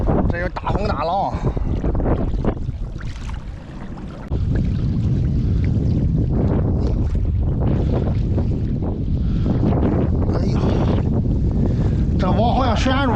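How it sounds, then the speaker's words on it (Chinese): Strong wind buffets the microphone at sea where an old fisherman works his nets in stormy weather, with rough waves crashing underneath as a continuous loud roar while someone talks throughout. "这有大风大浪。"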